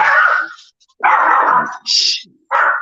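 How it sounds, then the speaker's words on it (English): A dog barks and yips in agitated bursts, loud and close, with short gaps of silence between each burst of barking. "my dog going crazy in the background"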